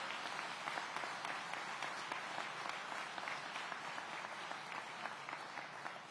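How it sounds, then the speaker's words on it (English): Continuous audience applause for emergency management volunteers at a city public safety event, a steady, fairly quiet wash of many hands clapping for about six seconds without speech. "Let's give them another round of applause."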